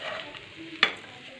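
Sago pearls being stirred in an iron pan for sweet khichdi, with a soft steady sizzle and the scrape of a spoon, one sharper clink near the middle, close by with no talking.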